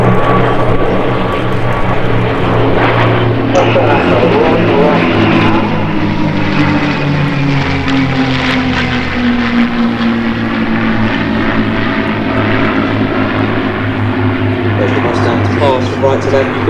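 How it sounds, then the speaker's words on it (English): Two Buchón propeller warbirds roll down runway 21 at the Sywell airshow, a loud steady engine drone with a rising, sweeping tone throughout, while a commentator talks over a public address. "you can now see the two Bouchons rolling down runway 21"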